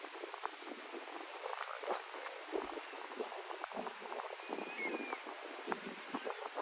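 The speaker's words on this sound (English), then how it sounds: "it's windy as fuck if you can't tell" Strong wind buffets the microphone throughout, a constant rough rumble with gusts rising and falling.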